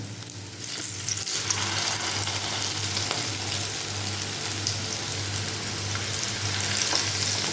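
Egg and cauliflower fry in a pan with a dense, steady sizzle that runs unbroken and close throughout, with no voices over it.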